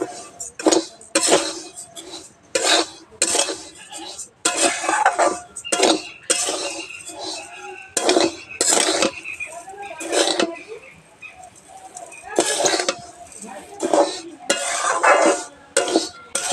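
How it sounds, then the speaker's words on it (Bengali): Parboiled rice is stirred as it fries in a pot, with repeated clinking and scraping of a metal spoon against the pot in irregular bursts, close and fairly loud. "চালগুলো এবার এভাবে একটু নাড়িয়ে নেব"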